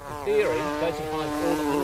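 Honeybees buzzing close around a hive being moved, a loud, dense droning hum with wavering pitch from many wings, continuous for the whole moment.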